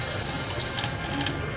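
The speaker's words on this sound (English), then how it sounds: "Then we're going to take it out and rinse it very lightly." Running water pours steadily from a tap over a clinical pathology sample as it is lightly rinsed. The close, continuous splashing and hiss stays even throughout the short stretch, with no voices.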